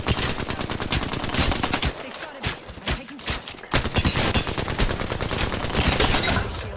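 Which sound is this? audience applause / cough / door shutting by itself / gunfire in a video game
gunfire in a video game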